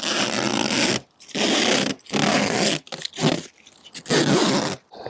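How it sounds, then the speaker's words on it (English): Protective plastic film peeled off a new RV skylight in several long, loud crackling strips with brief pauses between pulls, close up and without talk. "I'm going to peel off the plastic film."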